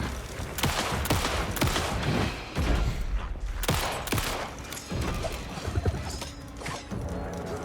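Rapid bursts of gunfire in the video game Alan Wake 2, dense volleys of loud shots and mechanical clatter repeating across the whole stretch with no talking.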